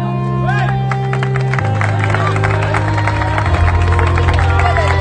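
A crowd applauds and cheers for two runners finishing the 105 km Volvic VVX ultra trail in 2019, with steady, dense clapping and babble under a continuous amplified music drone.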